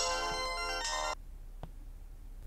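A mobile phone ringtone plays a bright electronic melody loudly for about a second, then stops, leaving a quiet room with a few faint clicks.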